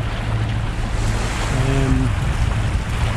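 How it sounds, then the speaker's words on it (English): A sailboat motors across open ocean toward an atoll, a steady low engine hum beneath rushing water and wind noise, with a brief faint tonal whine midway. "we're motoring directly towards the atoll"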